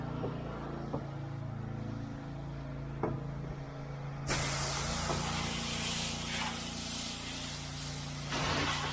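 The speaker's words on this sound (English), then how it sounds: "We're spraying chemical." A pressure washer sprays chemical while house washing: steady hissing spray over a low mechanical hum, growing louder and brighter midway as the high-pressure jet opens up fully.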